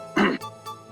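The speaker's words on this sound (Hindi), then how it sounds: "इसीलिए बिना वक्त आ जाती है खांसी" One rough, throaty cough up close, followed by two fainter breathy bursts of sound.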